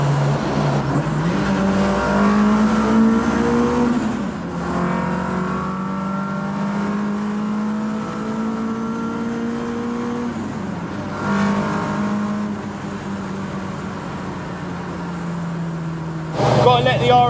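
A classic Ford car revs hard through a tunnel, its engine note rising and falling across several gear changes, loud and echoing, with another surge of revving near the end.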